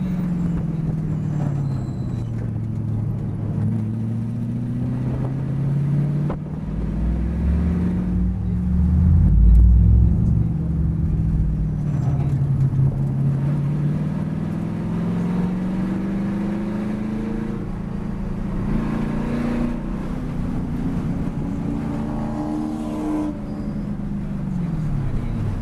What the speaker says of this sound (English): There goes one of the guys doing the hot laps.